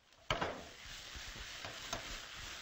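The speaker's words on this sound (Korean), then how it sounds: "지금 파하고 마늘하고 생강이 이렇게 잘 볶아지고 있어요" Green onion, garlic and ginger stir-frying in a wok, a quiet close sizzle broken by a few louder tossing scrapes, with no talk.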